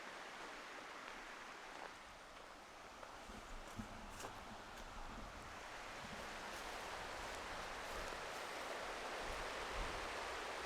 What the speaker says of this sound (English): Got the river right here.